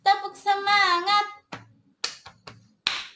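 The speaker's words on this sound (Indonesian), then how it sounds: "Ulangi lagi adik-adik. Tepuk semangat." Children perform a rhythmic clapping game, tepuk semangat, sung chant syllables followed by a few crisp, separated hand claps with short pauses between them.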